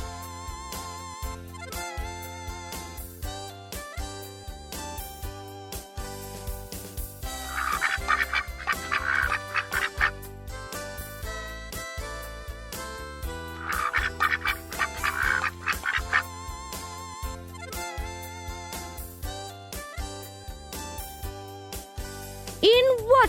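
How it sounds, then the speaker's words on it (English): A duck quacks in a series of nasal calls, with two clusters of quacking standing out over a steady musical backing. "Duck."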